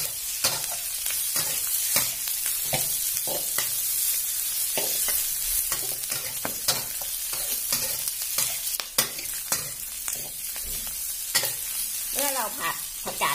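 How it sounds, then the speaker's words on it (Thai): Pickled mustard greens being stir-fried in a pan for a vegetarian festival dish, with steady sizzling and repeated scraping stirs close by, loud and continuous with no talking. "เราจะผัดผักกาดดองของเราสักพักหนึ่งแล้วเดี๋ยวเราถึงจะใส่ถั่วงอกนะคะ"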